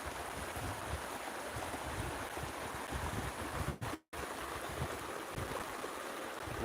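Steady rushing flow of a stream at night on rural land, a constant broadband wash of water close by that stays even throughout, briefly cut out for an instant, no voices.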